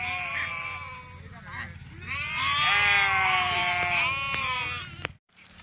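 Several sheep from a nearby flock of about two hundred bleat loudly and overlapping, a chorus of wavering cries, ending abruptly.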